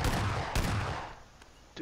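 Gunfire in the battle-royale video game PUBG comes as a couple of loud, sharp bursts over a dense rumbling background, the last one trailing off into a quieter tail.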